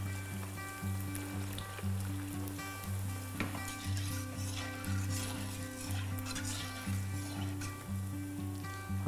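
Semolina golgappa puris fry in hot oil in a kadai while the oil is stirred, giving a steady, close sizzle and crackle with a constant low hum behind it and no voices.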